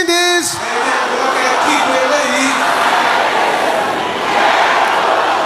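A church congregation shouting prayers together at a loud, sustained roar, a dense crowd of raised voices after a brief spoken cue at the start.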